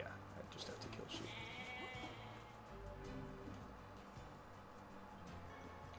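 Sheep bleat faintly in the video game Nier Replicant, with scattered soft calls set among steady in-game ambience and background sounds at low volume.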